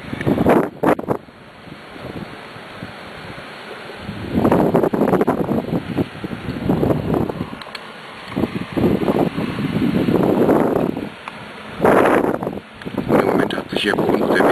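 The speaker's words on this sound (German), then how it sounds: "Hier bei uns der Wind ein bisschen gelegt, also er war schon heftiger gewesen." Strong gusts from windstorm Andrea roar and buffet the microphone outdoors in Weiterstadt-Braunshardt, surging loud in waves with brief lulls, while a person speaks over the wind.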